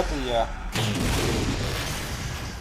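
The incinerator cannon fires in the Halo 4 video game, a sudden heavy blast partway through that leaves a loud, rumbling wash of explosion noise, with a voice talking over it.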